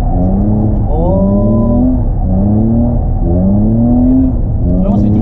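A car engine revs repeatedly in rising sweeps during drifting practice, loud and close, each climb in pitch dropping back before the next, with people talking over it.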